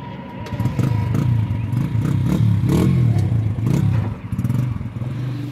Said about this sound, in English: that's his four-wheeler he just got